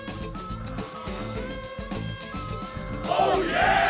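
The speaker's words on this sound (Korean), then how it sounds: "환호!" A cartoon crowd cheers, bursting into loud shouts near the end after several seconds of lively background music.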